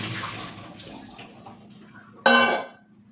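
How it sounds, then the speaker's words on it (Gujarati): Quiet kitchen clatter gives way to a sudden rush of water poured out of a pot of boiled potatoes, splashing loudly for a moment before trailing off. "કાળાવાળા વાસણમાં લઈ તેનું બધું પાણી નીકાળી દઈશું"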